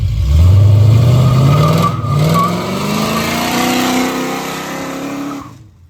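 An Oldsmobile Cutlass with a 383 V8 revs hard under brake torque, starting with a loud surge, then climbing steadily in pitch before cutting off abruptly, heard up close outdoors with no talking.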